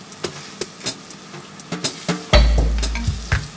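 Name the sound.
floured meat frying in a hot pan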